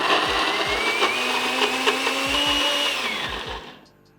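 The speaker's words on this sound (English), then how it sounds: "So let's blend it up." A NutriBullet blender whirs loudly as it purees soaked cashews, a steady high motor drone with rattling pulses that holds for several seconds before winding down and cutting off.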